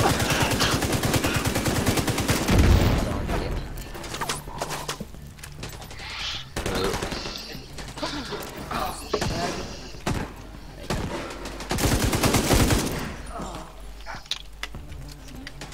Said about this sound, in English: There's a turret near me.